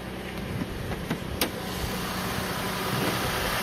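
An Acura TL engine idling just after a cold start, a low, steady and quiet hum heard from about six feet away, with a few faint clicks near the start and no talk.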